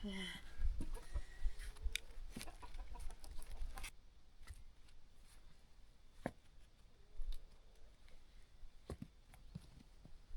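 Chickens cluck intermittently nearby, with scattered short sharp calls and faint rustling, busier at the start and quieter afterward.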